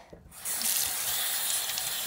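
Tap water runs steadily into a sink to wash a dirty Webkinz plush toy, a close, continuous rushing splash after a brief quieter start, with no talking.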